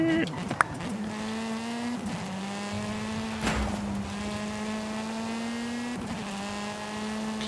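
A race car in Forza 5 drives with a steady, droning engine whose pitch climbs and resets between gear shifts, with brief tire skids mixed in.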